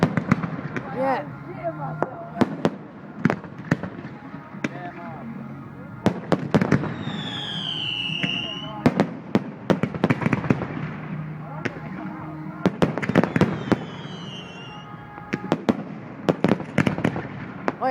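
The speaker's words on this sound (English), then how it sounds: "Alright, fucking hell, fireworks, calm down." Fireworks burst in a rapid, irregular string of sharp cracks and pops, some close and loud, with whistling rockets rising between bangs while people talk and shout throughout.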